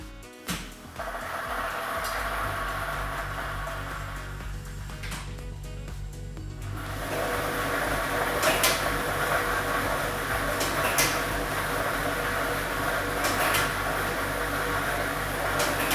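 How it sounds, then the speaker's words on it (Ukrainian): A lottery draw machine with a numbered ball set starts up in a televised state lottery draw. Clattering and rattling build into a steady whirring mechanical hum with repeated soft knocks as the balls tumble, and it continues loudly to the end. "І ми вмикаємо лототрон."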